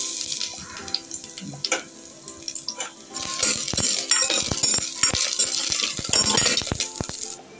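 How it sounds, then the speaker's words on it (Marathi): Garlic tipped into melted ghee in a cooking pot, crackling and sizzling up close, the spitting growing denser and louder partway through, with scattered clinks and no speech. "यामध्ये लसूण घालूया।"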